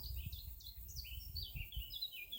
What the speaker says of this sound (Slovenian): s pticami, ki so čedalje bolj glasne, ker so ob tebi in ti jih bolj zaznavaš